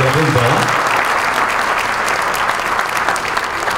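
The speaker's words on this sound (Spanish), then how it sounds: "Yo creo que el aplauso tiene que ser más fuerte, apoteósico." Loud, sustained audience applause fills a Peruvian criolla music stage show, a dense steady wash of clapping with no pauses.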